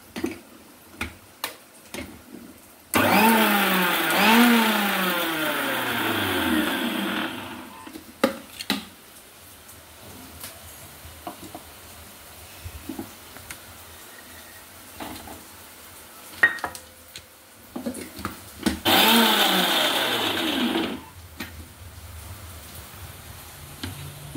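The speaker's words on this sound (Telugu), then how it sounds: "అప్పుడు వెల్లుల్లిపాయలు వేసుకొని మిక్సీ పట్టేసుకోవాలి" Mixer grinder in a home kitchen grinds onions and garlic in two loud bursts of a few seconds each, the motor whine rising and falling as it spins up and down, separated by quiet clinks and taps of utensils.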